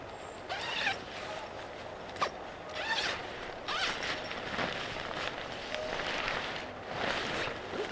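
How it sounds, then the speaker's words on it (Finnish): Zipper on the door of a Helsport Nordmarka tent being pulled open in the forest, several quick rasping runs a few seconds apart, close and fairly quiet against soft outdoor background. "Vetoketju, eli ovi."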